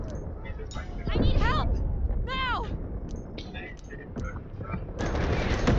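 Rapid gunfire bursts from the tactical shooter Delta Force during a fight at a dam, crackling in quick volleys beneath steady player talk and chatter throughout.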